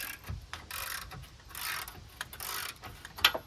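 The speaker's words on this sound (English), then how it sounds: "I'm going to use my socket extender." A hand ratchet on a socket extender clicks in several quick bursts while loosening the bolts on a Hooke Road rear bumper, close up and fairly quiet, with a sharper metallic tick near the end.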